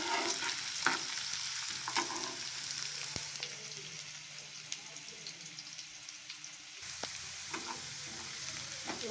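Garlic, ginger and onion fry in a pan until brown, giving a continuous close sizzle with occasional stirring clicks and scrapes.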